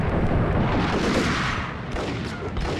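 A grenade explosion in the Max Payne video game, a loud, dense roaring blast that fills the whole clip and rumbles on without a break, close and heavy.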